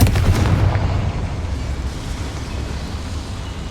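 A Confringo blasting spell goes off in a video game as a loud booming burst with a rumbling, roaring tail that slowly fades over a few seconds, heard without any talk.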